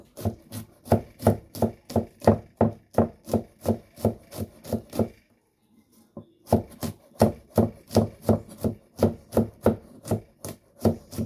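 Garlic is chopped on a cutting board with a knife in quick, regular strokes, producing a run of crisp knocks. There is a short pause partway through, then the rhythmic chopping resumes, close and clear.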